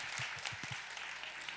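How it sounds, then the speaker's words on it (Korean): Brief, steady applause from a gathered audience at a church teachers' training lecture, a soft, even wash of clapping lasting under two seconds with a faint voice beneath. "박수."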